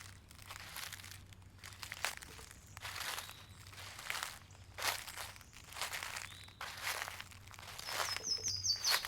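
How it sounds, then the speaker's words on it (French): Bare feet crunching and crinkling through dry leaves on a forest floor, steady repeated steps at close range with no voices, a faint low hum underneath and a brief bird chirp near the end. "Ressentez la douceur des feuilles qui craquent sous vos pieds nus."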